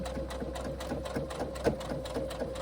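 Sewing machine stitching a seam on a fabric carry-all tote, a fast steady mechanical whir with rapid needle clatter, fairly quiet and close, running continuously without talk.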